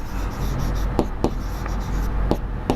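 Pen writing out a maths answer by hand on paper, continuous soft scratching with a few sharper strokes and taps, close and alone with no voices.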